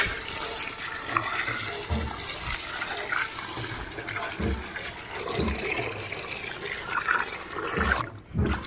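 Water splashes and pours continuously while leaves are washed clean for an outdoor popti party, a dense, steady rushing and sloshing close by with occasional louder splashes.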